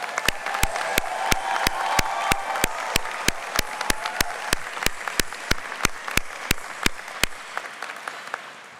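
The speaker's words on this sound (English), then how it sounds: "Please join me in giving them another round of applause." Graduation ceremony applause for the Westlake Charter High School class of 2026: a sustained crowd clapping with sharp, prominent nearby claps on top, holding steady for several seconds before thinning out at the end.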